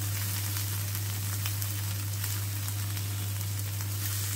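Peppers fry in a pan at home, making a dense, even sizzle that stays close and steady throughout over a constant low hum, with no talking.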